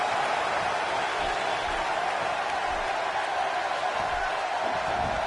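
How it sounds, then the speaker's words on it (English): Roaring crowd in a WWE wrestling video game on PS4 as Michaels makes his comeback entrance, a dense, steady wash of cheering and noise that stays loud and unbroken for several seconds. "And listen to this crowd."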